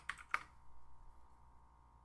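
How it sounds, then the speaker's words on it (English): Two quick, faint keystrokes on a computer keyboard as a password is typed, followed by a low, steady room hum. "type in a very secure password to log in"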